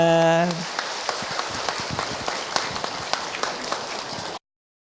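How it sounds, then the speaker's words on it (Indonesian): A sung or held tone at the start gives way to scattered, moderate clapping from an audience at an Islamic study gathering, continuing unevenly for a few seconds before cutting off abruptly. "Tepuk tangan buat bunda"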